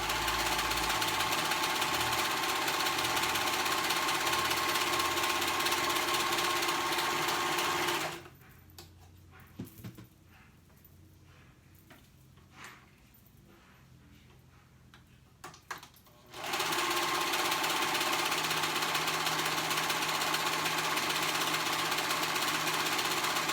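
A sewing machine stitches the raw edges of a small child's dress together in one steady, loud run of rapid mechanical ticking that stops partway, then starts again and runs to the end, with no talk.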